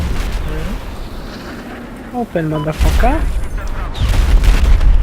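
Explosions and booming blasts in Battlefield 4 multiplayer, heavy rumbling detonations and gunfire-like bursts under a layer of game noise, building louder toward the end while someone speaks briefly.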